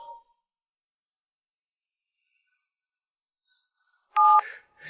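A telephone keypad dials out a call: after a long near-silent stretch, a short burst of loud electronic touch-tone beeps sounds close by near the end.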